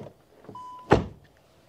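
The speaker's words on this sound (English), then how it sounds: "Nice doors closing sound, and to the rear." A Skoda Octavia car door swings shut with a single solid thunk, close and fairly loud, preceded by a faint brief mechanical whir and a short tone.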